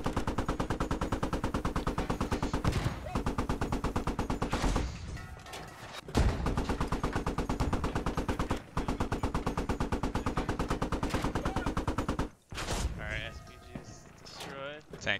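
Sustained rapid automatic gunfire in the military shooter game Squad, with long bursts of a heavy machine gun broken by brief pauses. Radio-style voices talk in the gaps near the end.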